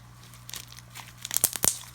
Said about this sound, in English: Has an amazing crunch because of all the spiders and bats.